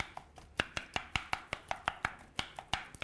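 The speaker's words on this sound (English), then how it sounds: "you take some wooden spoon and you mash that all together" A wooden spoon mashing ingredients together in a bowl, producing a fast, regular series of close, hollow thumps with no talking.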